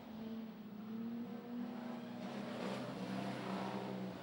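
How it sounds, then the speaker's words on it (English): A Holden Commodore modified production race car at Kingaroy Speedway runs rough, misfiring as if on only a couple of cylinders, a steady uneven engine drone with a faint rise partway through. "The Commodore running on about 2 cylinders."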